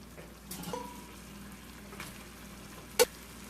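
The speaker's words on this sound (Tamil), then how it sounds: "இப்போ இதோட நம்ம பாஸ்தா ஆட் பண்ணிக்கலாம்" Cooked pasta goes into a hot pan with cheese, giving a soft, steady sizzle and frying hiss with faint stirring scrapes and one sharp utensil clink near the end.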